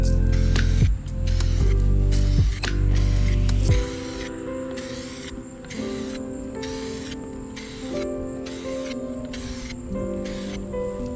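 An aerosol can sprays a first coat of paint onto a Toyota GR86 part, a series of hissing bursts, several long ones and then about ten evenly spaced shorter puffs, close and over a steady background drone.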